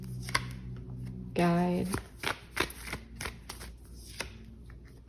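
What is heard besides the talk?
tarot cards being shuffled and pulled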